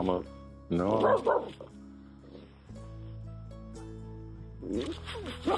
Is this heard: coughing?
no